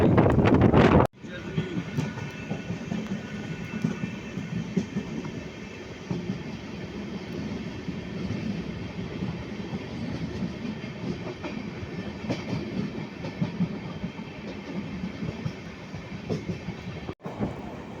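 Tanakpur to Dehradun Weekly Express running along with a continuous rolling rumble and faint rhythmic clatter, recorded nearby with wind buffeting the microphone and an abrupt cut at the start.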